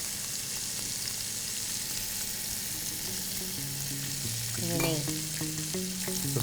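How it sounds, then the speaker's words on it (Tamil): Fish pan-fries in hot oil, sending up a steady, loud, close sizzle throughout, with a few clinks of a utensil and faint background music under it. "ஸோ இந்த ஃபிஷ்ஷை கொஞ்சம் லைட்டாக பேன் ஃப்ரை பண்ண போகிறோம்"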